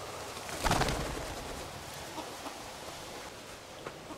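A breeding male Baikal teal gives a short, distinct clucking call, followed by a few fainter, scattered clucks over a quiet background.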